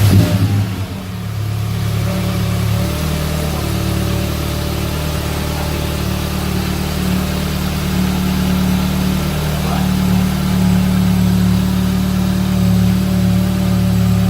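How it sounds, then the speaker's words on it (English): An Audi S3 fitted with a Revo carbon fibre intake and turbo muffler starts and settles into a loud, steady idle, with a slight rise in engine note partway through as it runs on close by. "give a little guinea pig test and start up your car"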